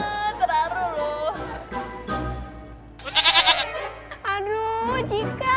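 A violin played badly lets out shrill, wavering bleat-like notes that imitate a goat. Several loud, quavering phrases come close together with short pauses, and a burst of harsher scraping sits in the middle.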